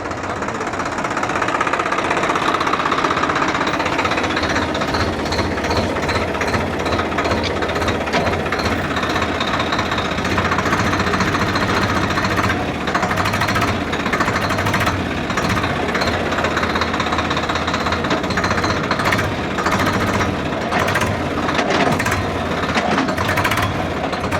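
A Swaraj 855 or Yuvo 585 tractor engine runs steadily in third medium gear in 4x4, a loud, continuous diesel rumble with knocking vibration and no pauses.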